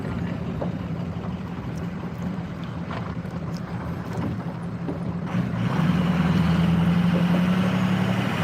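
A 6.0 engine that has sat unused for a while runs steadily up close, a low rumbling idle that grows louder and rougher about two-thirds of the way through, with no talking.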